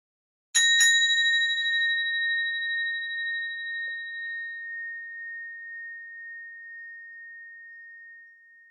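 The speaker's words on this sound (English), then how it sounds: "Somewhere here I have my bell." A meditation bell struck once, a clear ringing tone with a short double strike at the onset that decays slowly over several seconds in a quiet room.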